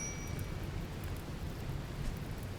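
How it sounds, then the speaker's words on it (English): Steady, dense rainfall in the colony game RimWorld, an even hissing wash with a low rumble underneath, continuous and unbroken throughout. "Good thing it's raining"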